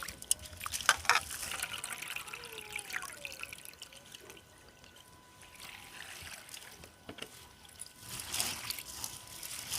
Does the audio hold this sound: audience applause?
no